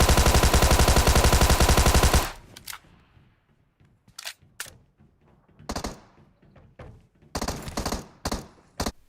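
Rapid automatic gunfire in PUBG Mobile blasts loudly for about two seconds, followed by scattered single shots and short bursts at varying distances, with quieter gaps between.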